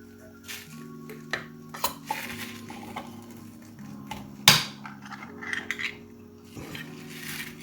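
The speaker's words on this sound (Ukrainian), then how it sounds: "Відкриваємо з вами ікорку. Північна. Так, тяжко." Metallic clicks, scrapes and a sharp pop as a small tin of red caviar is worked open up close, with quiet clinks scattered between.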